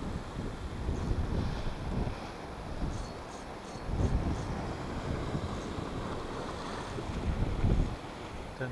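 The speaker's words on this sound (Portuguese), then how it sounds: "está uma grande nortada, mas está a bater nas costas" A strong north wind buffets the microphone at the seashore during shore fishing for squid and cuttlefish, a steady roaring rush with gusts swelling and easing, surf faintly mixed in beneath it.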